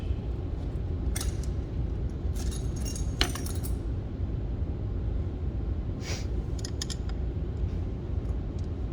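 Metal tool clinks and jangles in brief clusters as a wrench is picked up and handled during disassembly of a Star Trac Nautilus multi-station gym machine, over a steady low background hum.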